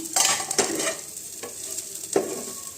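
Bitter gourd (kakarakaya) slices fry in a pan under steady sizzling, with a few sharp scrapes as a spoon stirs them, all close and fairly loud.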